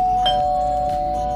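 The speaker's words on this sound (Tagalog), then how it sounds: "pindutin ang aking notification bell" A notification bell sound effect gives a single bright ding that rings on as a sustained tone, loud and close, with no talking over it.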